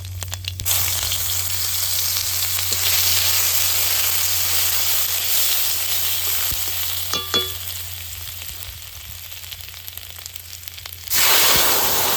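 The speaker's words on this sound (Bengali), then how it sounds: "কালো জিরা শুকনো লঙ্কা দিয়ে দেবো তেলের উপরে অল্প আদা" Nigella seeds, dried red chilli and a little ginger sizzle in hot oil for village-style gourd greens, a loud steady frying hiss that runs throughout with brief crackles, then flares up sharply near the end.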